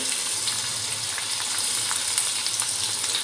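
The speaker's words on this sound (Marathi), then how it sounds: "आणि कांदा, लसूण, कढीपत्ता आपल्याला छान असा परतून घ्यायचा आहे" Onion, garlic and curry leaves sautéing in hot oil in a pan for a Konkan dry fish dish, making a constant close sizzle with light crackles throughout.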